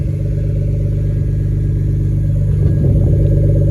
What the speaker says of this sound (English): it's running pretty dang good for first start